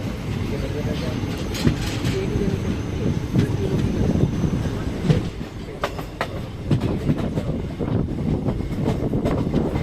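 An Indian Railways passenger train from Rameshwaram to Chennai Egmore rumbles along the rails with steady low noise and intermittent clacks and squeals, close by and continuous throughout.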